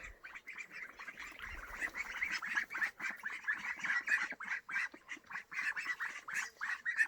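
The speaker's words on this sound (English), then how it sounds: "And then I'll show you my ducks." A flock of pet ducks kept at home quacks close by in a steady, rapid stream of overlapping calls that keeps going without a break, with no talking.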